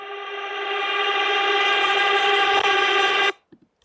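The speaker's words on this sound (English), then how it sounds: "I just recorded that part and then reversed it and added reverb" A reversed recording drenched in reverb swells gradually from quiet to a loud sustained harmonic wash, then stops abruptly, leaving a few faint ticks behind.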